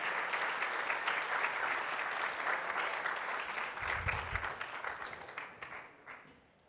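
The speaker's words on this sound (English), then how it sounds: "You're allowed to clap for them too." A large audience applauds steadily at a startup accelerator awards event at SXSW in 2013, dense clapping that holds loud and even before thinning and fading out near the end, with no talk over it.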